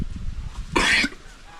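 A pig on a farm raising hogs for lechon gives one short, harsh cough at close range, preceded by faint background noise.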